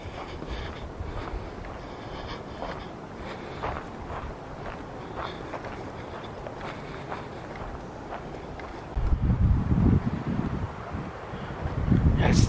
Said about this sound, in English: That's the sound of the wind right there.